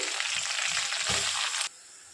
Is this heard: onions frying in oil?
yes